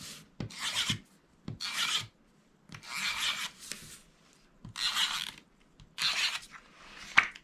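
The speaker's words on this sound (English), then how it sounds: "I am going to use my tape runner. We're going to add tape to the back." A tape runner is dragged along the back of paper napkin notecards in six separate raspy strokes, each about a second long, each followed by a small click, close and quiet with no talking.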